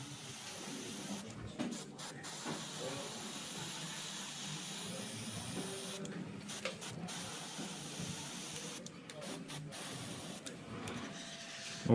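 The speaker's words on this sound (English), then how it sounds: "this is in a very hurry way the airbrushing of the grass" Airbrush spraying paint onto grass on a desert terrain diorama, a continuous faint hiss with brief pauses and mechanical clicks, quiet throughout.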